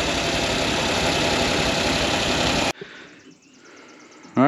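The engine of a 50-year-old fire truck runs close and loud in a steady, dense idling roar that cuts out abruptly, leaving quiet room noise before a brief burst returns at the end.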